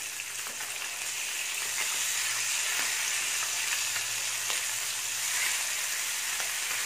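River fish frying in a pan over medium flame, a loud, continuous crackling sizzle with scattered pops, close and steady throughout with no talking.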